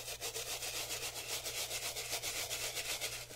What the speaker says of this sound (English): Bristle brass brush. It's a little bit more vigorous.